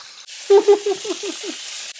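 About 3.5 pounds of chuck roast sizzles in a hot pan, a loud close hiss and crackle that flares at first contact with a few sharp pops, then settles to a steady fry.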